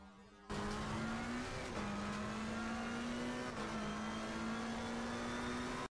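A McLaren 720 GT3 race car engine at full throttle in Assetto Corsa around Zandvoort, bursting in loud and holding a sustained high rev, with brief dips at gear changes before cutting off abruptly.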